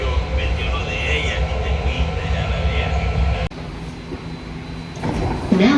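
A BART Green Line train rides toward Daly City, its steady loud rumble and rolling rail noise continuous throughout, with a sharp jolt midway and the din dipping briefly before building again.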